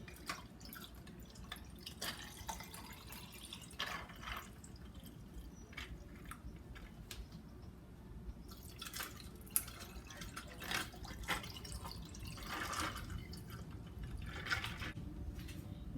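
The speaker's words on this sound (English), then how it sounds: "So now we're going to pour some lemonade." Lemonade pours over ice into mason cups with a steady liquid trickle, broken by splashes and clinks, heard alone.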